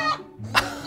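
An interactive balloon dog toy gives a short electronic chicken cluck, a single brief burst at close range with no talk over it.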